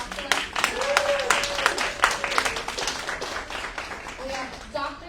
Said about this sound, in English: If I can give a round of applause for Amithala.